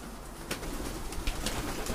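Domestic pigeons being released outdoors make faint, soft cooing, with a few flutters and light clicks over a steady background hiss.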